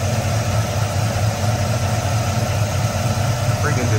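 The engine of a four-door G-Body Oldsmobile Cutlass idles close by with a steady, deep rumble that never changes, its distributor loose.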